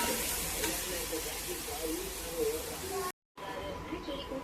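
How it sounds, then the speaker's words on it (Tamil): Salted tomatoes sauté in a pan for homemade mutton biryani with a soft, steady sizzle and stirring, broken by a brief silent gap, while someone talks over the cooking. "தக்காளி பழம் பாருங்கள் நல்லா வதங்கிடுச்சு"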